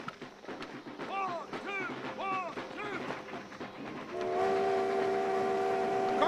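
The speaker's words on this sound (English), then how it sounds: "stop that train!" A steam train in a western film chuffs along under shouted voices and bustle, and then a loud, sustained whistle blows near the end.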